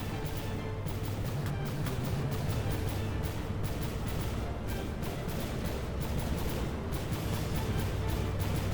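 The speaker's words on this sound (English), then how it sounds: "You can hear that cannon firing away like crazy on the moissanite." Dense, continuous booming and rumbling cannon fire in the game From The Depths, pounding steadily and loudly on a moissanite-armored vessel with no pauses.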